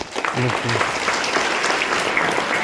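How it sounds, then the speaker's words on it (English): Audience clapping for a student at a Minerva Academy Football Club event, steady applause from a crowd with a voice speaking briefly over it. "Let's give big round of applause."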